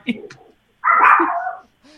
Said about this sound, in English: It's a Chihuahua.